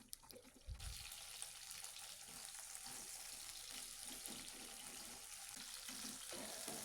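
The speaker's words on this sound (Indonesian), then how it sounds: "aku mau manasin minyak, ini mau goreng bumbu sambelnya ya" Sambal terasi spice paste frying in hot oil, a steady close sizzle and crackle that starts after a brief thump and continues evenly for several seconds, with no talk.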